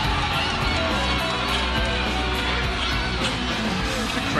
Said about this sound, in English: The crowd just cheering on Alexia Delgadillo